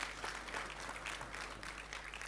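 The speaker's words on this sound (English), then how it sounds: "I think a round of applause for the beneficiaries of this event" Steady, moderately faint audience clapping at an entrepreneurship event, an even wash of many hands continuing throughout with no voices.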